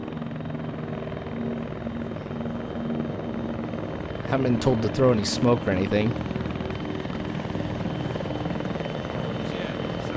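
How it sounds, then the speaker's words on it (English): A helicopter in the ARMA 3 video game comes in to land, its steady rotor drone continuous and close throughout, while someone talks over it. "Get my guys in that chopper here, though, once it lands."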